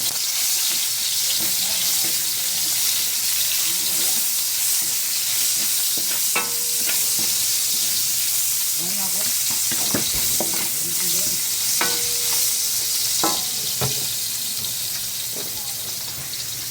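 Garlic and onion sautéing in leftover fish-frying oil, heard as a steady hiss of sizzling with intermittent spatula scrapes and clinks, close by, while faint background sounds drift in.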